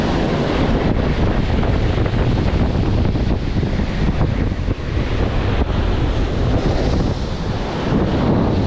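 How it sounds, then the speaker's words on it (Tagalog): Loud, continuous roar of surf and waves, with heavy wind buffeting the microphone throughout and no talking. "Lakas ng alon"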